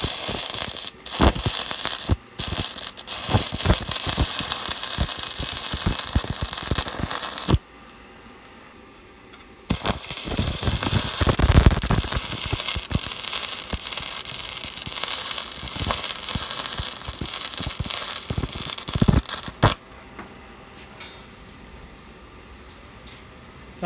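A welder crackles and sputters while fusing a broken ride-on lawnmower steering rod, in long close bursts broken by short pauses, with no voices.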